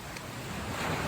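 Ocean surf rolls steadily beside an amateur radio DXpedition antenna site, a broad, constant wash of breaking waves mixed with wind buffeting the microphone, building slightly louder toward the end with no talking.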